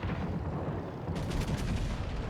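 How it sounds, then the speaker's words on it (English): Anti-aircraft guns firing at torpedo bombers in a World of Warships naval battle, a dense rumbling barrage of rapid shots that grows brighter and louder partway through. "AA guns trying to work over the torpedo bombers"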